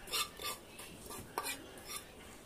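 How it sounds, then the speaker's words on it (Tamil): Freshly fried tempering being stirred into idli batter in a bowl, a few soft rhythmic scraping strokes of a spoon, quiet and close with no speech. "நல்லா கிண்டி விட்டுருங்க"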